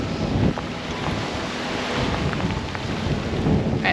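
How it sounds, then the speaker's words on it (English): A rain squall with strong wind hits a small sailboat alone at sea, a steady, loud roar of wind and rain that fills the whole stretch without letup, with gusty surges near the start and end. "It's in the raining portion of this squall right now"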